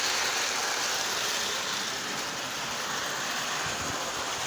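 An American Flyer 545 model train locomotive running on its track, giving a continuous, fairly faint whirring hiss with a light mechanical rumble, steady throughout and with no talking.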